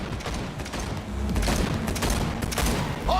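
Dense rapid gunfire rattles in a Cyberpunk video game car chase, sustained bursts of shots with thumps and mechanical clatter, loud and continuous.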